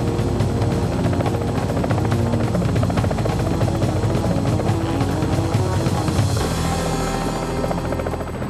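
A loud, continuous helicopter rotor thrum dominates throughout, steady and close, with no voices.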